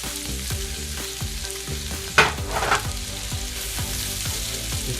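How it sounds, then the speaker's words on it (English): Onions and mushrooms sizzle steadily in oil or butter in a pan for beef steak stroganoff, with a loud, close frying hiss and a few sharper bursts of crackle midway. "Go ahead and put some onions in there. Oh yeah. Let's get those onions going."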